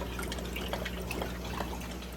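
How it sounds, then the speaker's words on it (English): Aquarium water trickles and splashes steadily back into a fish tank in a continuous close wash, over a constant low hum of equipment. "it flows right back into the tank"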